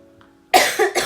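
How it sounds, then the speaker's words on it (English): One person coughs loudly up close in a burst of two or three harsh coughs after a brief quiet moment, with no talking. "Still coughing, sorry."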